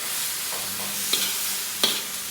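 Chicken and vegetables being stirred in a hot pan for chicken bulanglang, a steady sizzle with a couple of sharp scraping clinks of the utensil against the pan.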